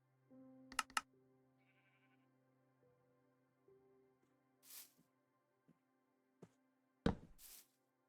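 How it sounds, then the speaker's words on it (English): A sheep in the Minecraft video game bleats a few short times among sparse block knocks and thuds, with a faint steady tone underneath and brief bursts of noise near the end. "You don't want to fall in the hole, Mr. Sheep."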